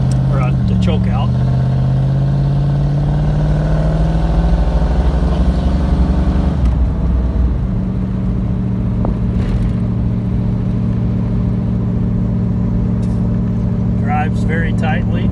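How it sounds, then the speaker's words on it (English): A cold 1973 Triumph Stag engine idles slightly high with the choke out, a steady low rumble running continuously through the clip, with a person talking over it for most of the time. "Does idle a little bit high right now, but that's because it's cold and I've got the clutch out a little bit, or the choke out."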